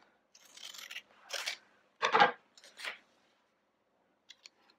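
Scissors snip through a folded paper scrap during a kids' kite mosaic craft, making about four close, quiet crisp cuts in quick succession, with a couple of faint ticks afterward.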